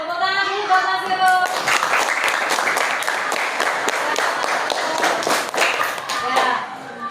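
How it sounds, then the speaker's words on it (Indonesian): An audience claps for a presenter in a classroom, steady applause from a group lasting several seconds right after a short spoken cue, close and fairly loud. "Tepuk tangan dulu buat Mas Hero"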